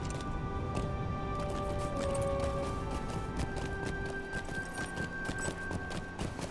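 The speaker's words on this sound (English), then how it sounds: "is it because I'm riding a horse?" Horse hooves clip-clop steadily as a character rides in the Lord of the Rings Online video game, a quiet, even trotting rhythm under faint game ambience and background tones.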